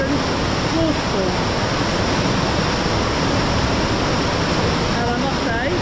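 Steady, loud rush of the Devil's Cauldron waterfall in Lydford Gorge fills the whole clip, a constant broadband roar with faint voices or chirps briefly surfacing above it.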